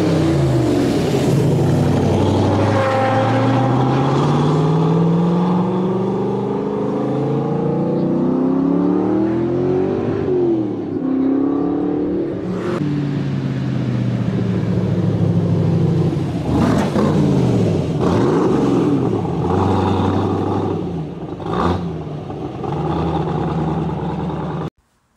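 A Maserati with a 3-litre engine of about 250 hp drives past, its loud, close engine revving and shifting through rising and falling pitch sweeps, with a few sharp gear-change bursts and no voices.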